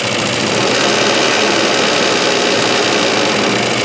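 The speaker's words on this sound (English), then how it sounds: "If I move up the revs and then pull the power," A Suffolk Super Punch/Colt mower engine runs loud and close, a steady dense mechanical roar throughout with no talk.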